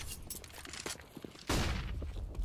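Gunfire bursts during a competitive CS:GO match, with scattered shots early and then a loud, sustained volley in the second half, heard at moderate distance.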